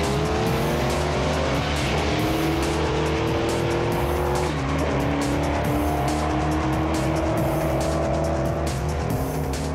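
Race cars, among them a Year One Mustang, roar hard off the starting line with loud, layered engine drone and squealing tires, close and continuous with no talking.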